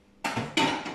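A metal cooking pot clanks and knocks twice in quick succession as it is pulled out, close and fairly loud.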